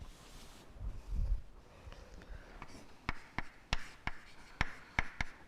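Chalk or marker taps and scrapes on a lecture board, starting with softer strokes and then a series of sharp, evenly spaced ticks, close and quiet, with no voices.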